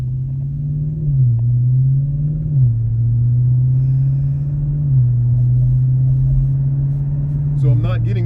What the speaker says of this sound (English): as you get on it and get more aggressive, so will the car, elongating the gear ratio and giving you higher RPMs